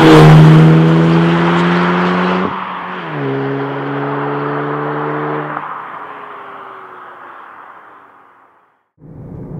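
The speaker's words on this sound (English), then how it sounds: "Yeah, I like this engine." A 2015/2016 Audi TTS (8S) with the 2.0-liter TFSI engine pulls hard from inside the car, its droning engine note climbing through a couple of gear changes before easing off and fading, then picking up again briefly.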